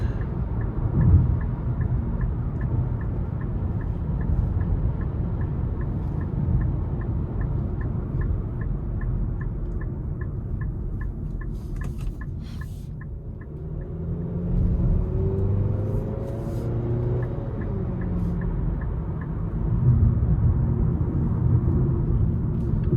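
Steady low engine and road rumble from a 2026 Nissan Sentra SL accelerating in normal mode, heard from inside the cabin, with a brief dip and then a rising tone partway through.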